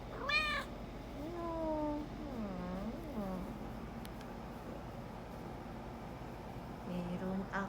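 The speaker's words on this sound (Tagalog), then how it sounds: "Meron akong pusa." A pet cat meows several times, the calls rising and falling, with a couple more near the end, fairly close. A low background rumble runs throughout.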